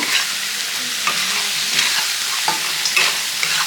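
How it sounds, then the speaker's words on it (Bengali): Chopped tomatoes sizzle and fry in a pan while being stirred steadily, with repeated scraping strokes over a constant loud hiss, and no voices. "এটা একটু ভেজে নিই ভালো করে"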